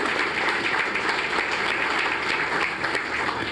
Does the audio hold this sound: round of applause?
yes